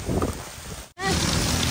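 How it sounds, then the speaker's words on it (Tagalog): Heavy rain pours down in a steady dense hiss during a windy, cloudy storm, loud and close, with a brief dropout midway and no voices. "Sobrang lakas ng ulan."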